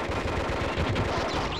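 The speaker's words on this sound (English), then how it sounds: "that's a pistol" Pistol fire in a football-themed PlayStation demo disc game, a rapid close run of sharp, punchy shots over a steady game background, with no talking.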